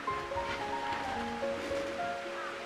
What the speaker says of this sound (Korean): 이 물소리가 너무 행복합니다